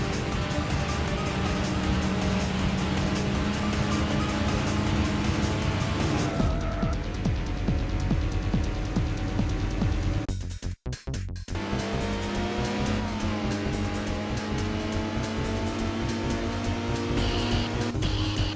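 Racing cars in a video game roar continuously with engine drone and tire squeal, steady and loud throughout, with a brief sharp break near the middle.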